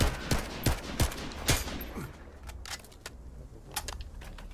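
Rapid gunfire from a looter shooter video game, The First Descendant: a burst of sharp, loud shots in the first two seconds, then sparser, fainter pops over a steady background hum.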